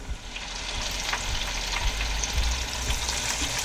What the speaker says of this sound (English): Got my warmouth perch fillets in there. I'm gonna let them cook for a couple minutes.